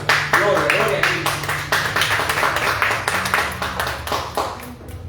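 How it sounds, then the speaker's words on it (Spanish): A church congregation claps in a quick, loud rhythmic burst of hands, sharp close claps repeating under voices and background sound. "Un aplauso al Señor."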